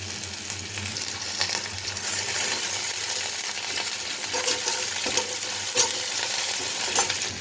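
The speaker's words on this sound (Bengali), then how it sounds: "রসুন পেঁয়াজটা দিয়ে দিয়েছি এবার ভেজে নেব দিয়ে দেবো কারি পাতা" Garlic, chopped onion and curry leaves fry and sizzle steadily in a hot pan for a dal tarka, with a spoon scraping and stirring at intervals and occasional sharper clinks; no one speaks.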